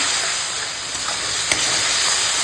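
Spice paste with salt, chili powder and turmeric sautéing in a pan for a Bengali fish-head dal, a steady broadband sizzle and hiss with one brief clatter, continuous and close.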